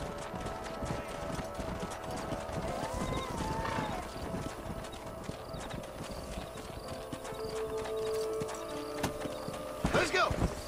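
Horses in the Red Dead Redemption video game clip-clop steadily throughout, with a neigh partway through, all set under music and game ambience while voices talk.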